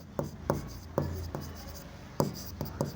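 Chalk or marker strokes on a board during a commerce lesson on ratio analysis, a series of short scratchy taps and swipes in an uneven rhythm, close and fairly clear.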